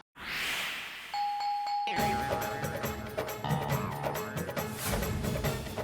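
An apartment doorbell chimes briefly and then gives way to a loud burst of dramatic background music that fills the rest of the moment, with no talk.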